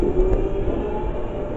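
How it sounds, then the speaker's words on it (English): A London Underground Jubilee Line train departs Dollis Hill station, a steady low rumble and hum holding even throughout with no voices. "It's the Underground Jubilee Line service bound for Wembley Park. And there goes the one to Stratford departing."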